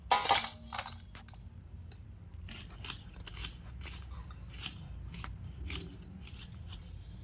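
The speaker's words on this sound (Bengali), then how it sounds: "এইরকম ভাবে কিন্তু আলুটাকেও কাটবো সরু সরু লম্বা লম্বা করে" A knife slices a potato into thin, long strips on a cutting board, giving a steady run of short, crisp chopping taps. The cuts are quiet and close, with no talking.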